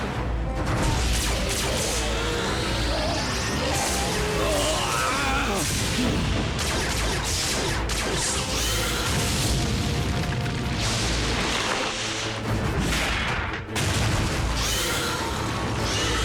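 A dense, unbroken barrage of gunfire and explosions in a military action scene, with booms, crashes and rumbling blasts filling the whole stretch at high loudness, and voices half buried in the chaos.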